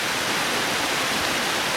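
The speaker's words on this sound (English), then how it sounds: "This is what originally brought me in. Was this little tiny river." A tiny river running through Andorra spills down small steps, making a loud, steady, close rushing wash of water with no voices.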